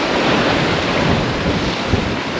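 Loud, steady wind of 27 to 28 knots buffeting the microphone over the wash and rush of waves in the English Channel, aboard a sailboat, continuous and close with no voices.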